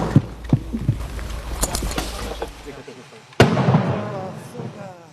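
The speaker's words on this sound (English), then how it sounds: "As if to prove the point, incoming Russian artillery." Russian artillery shells land in a Ukrainian war zone, several sharp thuds early, then one loud, close blast near the end whose rumble decays slowly; muffled voices are faintly present.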